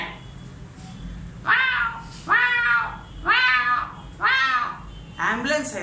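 A young performer's voice imitates a cat, giving five drawn-out meows in a steady, evenly spaced series, close and fairly loud over faint background hiss.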